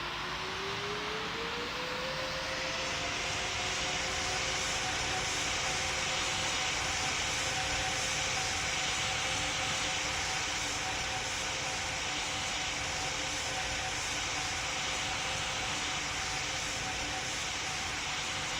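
An airplane takes off in the Roblox game Pilot Training Flight Simulator, with a steady loud engine roar and a tone that climbs in pitch over the first two seconds, then holds constant.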